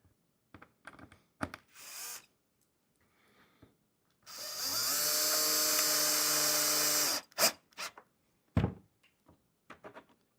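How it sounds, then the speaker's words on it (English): A power drill drives latches into a cedar wood beehive box, one sustained whirring burst of about three seconds, close and clear, framed by scattered clicks and handling knocks. "So we're going to drill each latch in."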